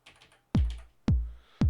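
A Roland TR-909 drum machine pattern with accents and bass drums: three deep, punchy kick hits with booming decays, near and loud, preceded by a few faint, light ticks.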